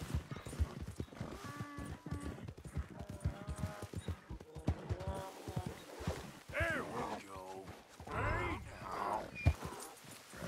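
Hooves clip-clop at a gallop on a horse in the Red Dead Redemption 2 video game, with a whinny and creaking tack, mixed under game voices and music.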